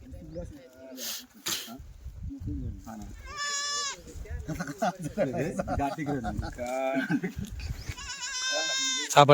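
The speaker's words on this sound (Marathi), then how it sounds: "बकरी बकरे पाहून घ्या" Kathiawari goats bleat repeatedly at close range amid a noisy crowd, with people talking throughout and a few sharp snorts in between.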